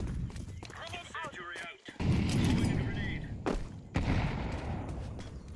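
Counter-Strike match gunfire and a grenade blast, with dense shots and a sudden loud burst in the middle, partly under players' voices calling out over the action.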